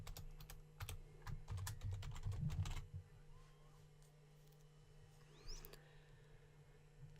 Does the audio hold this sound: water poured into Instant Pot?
no